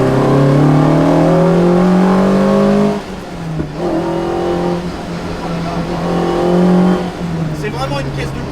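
Lotus Exige S1 sports car engine revving hard while driven, rising harmonic pitch sweeps climbing through gears with short lifts between shifts, loud and close throughout, with speech over it.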